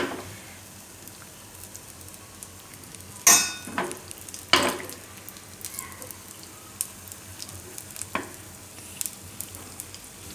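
Sweet appe fry in ghee in an appe pan with a steady soft sizzle, broken by a few sharp clinks and scraping touches as the pieces are turned over.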